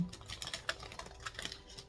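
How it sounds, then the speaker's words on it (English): A deck of tarot cards is shuffled close by, with soft, rapid ticking and riffling patters at a low level and no talk. "We're going to go ahead and shuffle for you guys"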